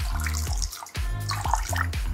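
Red wine vinegar is poured into a salad dressing in a brief, soft liquid trickle with light splashing, close by and heard alone.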